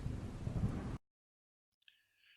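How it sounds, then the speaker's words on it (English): A heavy roll of thunder with rain rumbles loudly for about a second and then cuts off abruptly into silence, followed by a faint high tone. "Lightning and thunder exploded all around the dog."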